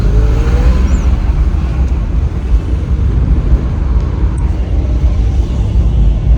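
Steady, close engine and road rumble from inside a car pulling away from a hospital, a continuous low drone with tire noise and no speech.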